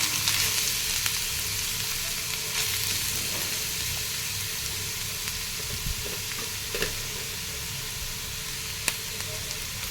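Grated carrot frying in browned ghee for carrot halwa, a dense continuous sizzle with faint stirring scrapes, close and steady, no speech.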